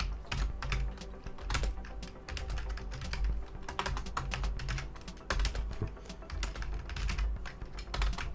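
Rapid, forceful typing on a computer keyboard with a microphone nearby, dense clacking keystrokes with heavy low thuds running steadily and loudly throughout, no talk.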